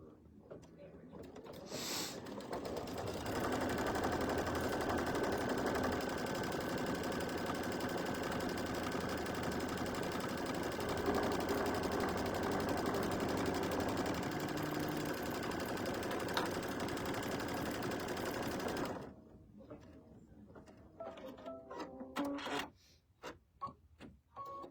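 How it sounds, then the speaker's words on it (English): A sewing machine runs a placement stitch on fabric for a mug rug, a steady close mechanical whir lasting about fifteen seconds before stopping, followed by quieter handling sounds. "next stitch is going to be a placement stitch for our fabric."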